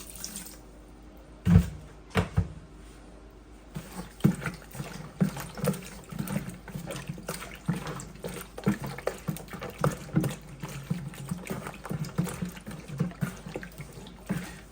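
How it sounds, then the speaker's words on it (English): Meat being washed by hand in a kitchen sink with running water and white vinegar, with close sloshing, splashing and a steady trickle, broken by a few sharper knocks. "When you wash your meat with the vinegar, you see all that stuff that comes out from it"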